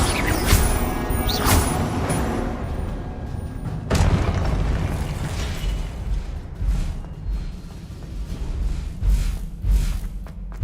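Confringo spell blasts in Hogwarts Legacy come as heavy booming explosions, one near the start and one around four seconds in, each trailing into rumbling combat noise with smaller impacts and pops.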